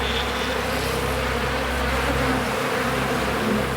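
Killer bees buzzing as a dense, continuous swarm drone, close and loud and holding steady throughout with no voices.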